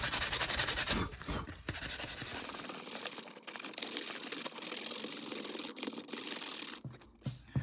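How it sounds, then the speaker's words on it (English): Steady abrasive rubbing and scraping, close by, continuing in bursts with brief pauses, like sandpaper worked back and forth over a small piece of wood. "before I get too far into sanding"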